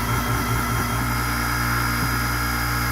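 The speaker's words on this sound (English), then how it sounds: "Very strong motor." The motor of a Katoku KDC-150s shears sharpening machine spins a hone with a steady, even whir and faint tonal hum, close and alone, with no talking.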